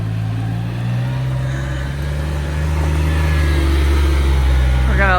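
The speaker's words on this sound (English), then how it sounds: "this is the side-by-side CF Moto" CF Moto side-by-side engine running steadily with a low, continuous drone that swells slightly toward the end, people talking over it.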